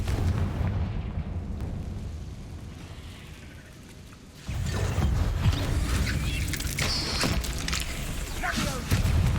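Blasting-spell explosions from the Hogwarts Legacy video game, a heavy booming burst kicking in midway over dense low rumble with crackling debris, following a quieter, muffled stretch of battle noise.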